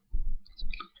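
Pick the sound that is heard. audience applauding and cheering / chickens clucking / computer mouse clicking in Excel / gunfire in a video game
computer mouse clicking in Excel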